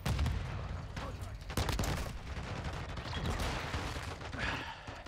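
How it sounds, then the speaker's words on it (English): Shotgun fire in a video game, repeated heavy booming shots with rumbling echoes amid other battle noise, moderately loud, with talking mixed in. "I'm not very good at the shotguns in this game."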